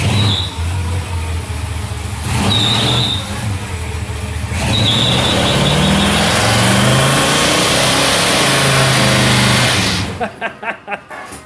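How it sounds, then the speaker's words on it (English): A 1994 Chevy Silverado with a 400 cubic inch engine roars through a burnout, loud revving surges rising and falling with tire squeal, then the engine cuts off and sputters into choppy bursts near the end. "he's doing the burnout."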